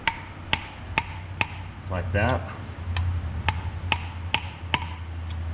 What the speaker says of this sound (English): this is an old clutch alignment tool that I use to just kind of hammer it in